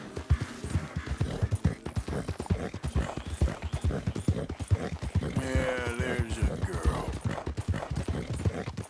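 A horse gallops in Red Dead Redemption II: rapid, steady hoofbeats pound close by throughout, with a brief tonal, whinny-like sound rising midway.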